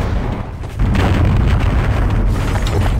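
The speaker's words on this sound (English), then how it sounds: "they're just bombing the place now" Aerial bombing explosions in the video game Half-Life land as a heavy, deep boom that starts abruptly and rumbles on loudly, close and sustained.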